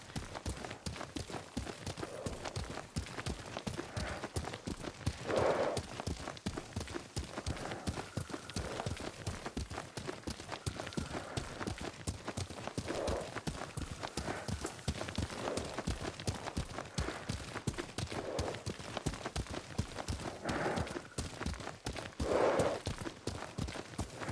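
Steady hoofbeats of a horse ridden at a walk or trot in Ghost of Tsushima, an even clip-clop rhythm running throughout with occasional faint snorts or breaths and no speech.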